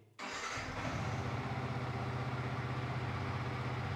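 A Yamaha R15 motorcycle engine cranks and fires up after a short silence, then settles into a steady, loud, close idle with an even pulsing rhythm that holds to the end.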